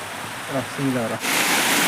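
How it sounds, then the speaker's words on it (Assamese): Steady rain pours down outdoors as a dense, even hiss that grows louder and fuller partway through, with a voice briefly speaking over it early on. "আৰু বৰষুণ আছে দেখিছে না বৰষুণ"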